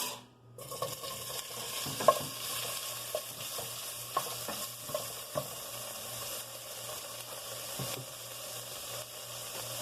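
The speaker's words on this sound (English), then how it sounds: "We're going to saute the ham first." Ham sautéing in a pan gives a quiet, steady sizzle and hiss, broken by occasional sharp stirring clinks and scrapes, with no voices.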